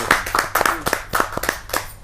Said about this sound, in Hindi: जोरदार तालियों के साथ एक नई रचना के